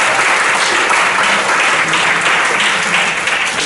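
Loud, sustained applause from a conference audience welcoming a speaker at an impact investing session, a dense wash of many hands clapping steadily throughout, with no voices above it.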